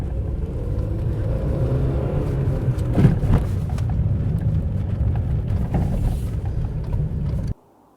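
A Porsche 924's four-cylinder engine runs with a steady, close, low rumble, a brief rise near the middle, and then cuts off abruptly at the end.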